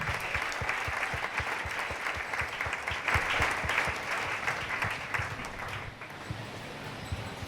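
A church congregation claps in a steady rhythmic beat, loud and close, before the applause thins out and fades.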